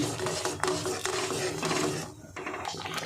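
Tomato sauce boils hard in a kadai, a thick continuous bubbling and popping mixed with the scrape of stirring, close and fairly loud throughout a short stretch without talk.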